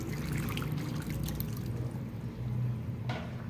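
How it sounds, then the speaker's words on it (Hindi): Two cups of water poured into a cooking pot with onion and ginger paste for a dhaba-style aloo keema, giving a steady, continuous splashing pour throughout with no talk over it. "साथ ही हम 2 कप पानी शामिल कर देंगे।"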